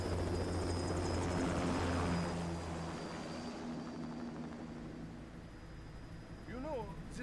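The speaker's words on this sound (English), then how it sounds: "Commencing takeoff in semi-auto mode." An aircraft in Metal Gear Rising: Revengeance lifts off with a heavy, throbbing engine roar that swells early and then settles into a steadier drone, and a voice sounds briefly near the end.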